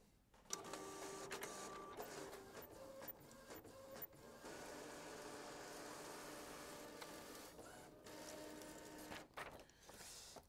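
A printer runs on its own, whirring and clicking steadily with a few mechanical stops and starts and brief knocks along the way.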